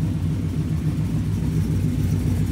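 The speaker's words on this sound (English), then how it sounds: "that ghost cam tune that you've got sounds..." A twin-turbo Mustang GT with a ghost cam tune idles nearby, its low engine rumble steady but lumpy and pulsing throughout.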